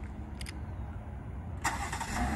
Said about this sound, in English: and the car will go ahead and start up.